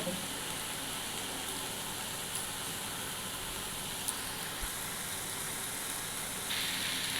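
Spices sautéing in a pan for chicken curry give a steady broadband sizzle and hiss, close and even throughout, with a few small pops and a slight lift near the end.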